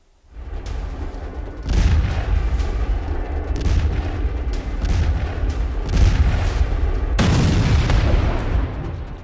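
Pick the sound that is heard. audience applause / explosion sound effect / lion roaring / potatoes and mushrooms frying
explosion sound effect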